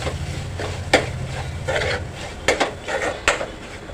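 Onion, tomato and spices being mixed in a pot with a metal spoon: scattered clinks and scrapes against the pot over a soft steady hiss, close and without talking.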